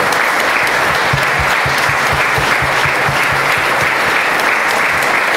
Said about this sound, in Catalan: dediquem-li un fort aplaudiment